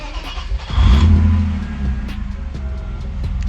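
A BMW E36 drift car engine catches and settles into a low, loud idle after a short crank, heard close up with no talking.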